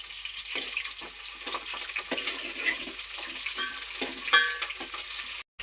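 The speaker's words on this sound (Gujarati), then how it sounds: "મરચાં તળાઈ ગયા છે" Green chillies fry in hot oil with a steady crackling sizzle and scattered pops, close and continuous with no voices, cutting off abruptly near the end.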